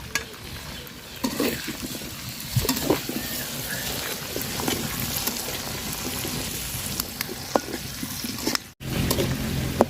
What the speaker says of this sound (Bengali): এই যে আলুটা দিয়ে দিব পেঁয়াজ মরিচের সাথে আলুটা আবার বাজিয়ে নিব সুন্দর করে